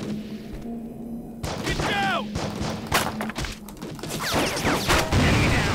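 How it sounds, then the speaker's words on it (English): Heavy gunfire in the war video game Heavy Fire: Afghanistan: dense, loud bursts of shots and thuds crowd together under urgent shouting voices, building to a heavier barrage near the end. "Under heavy fire."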